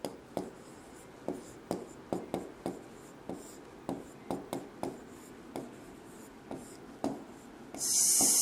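A pen writing notes during a Class 6 science lesson, producing a close series of short scratchy strokes with brief pauses between them and a loud rustle at the end.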